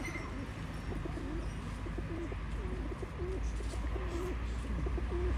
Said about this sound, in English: So these are pigeons.